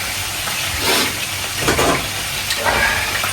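Water splashes into a hot pan of cooking food and sizzles, a loud, steady hiss with a few surging bursts of steam throughout and no one speaking.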